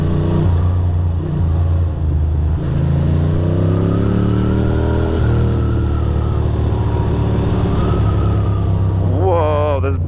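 A Ducati Monster 620 motorcycle rides along with a steady engine drone that rises and falls with gear changes, heard close under wind noise while a rider talks.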